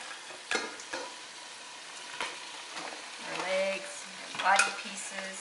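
Crab body pieces drop into a simmering tomato mixture, giving soft sizzling and bubbling with a few clunks and scrapes from stirring, fairly quiet and close.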